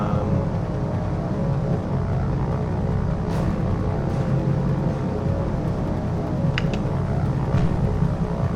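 B-17 bomber aircraft in the naval combat game War on the Sea drone overhead, a dense, continuous low propeller-engine rumble that stays loud and steady, with a few faint higher clicks over it.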